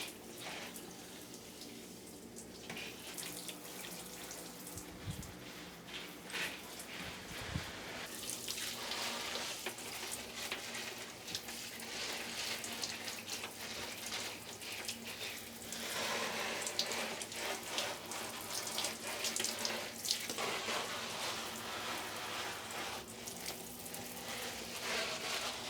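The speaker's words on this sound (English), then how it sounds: "I want them to get properly soaked and thoroughly wash the leaves." Tap water runs steadily over houseplant leaves being soaked and washed in a sink, a continuous close splashing hiss with small clinks and shifts partway through, no voices.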